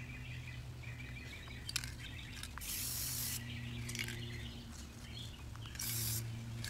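Spray paint hisses in two sustained bursts onto an airsoft gun through a stencil for desert camo, each burst a couple of seconds long and fairly close, over a low steady background hum.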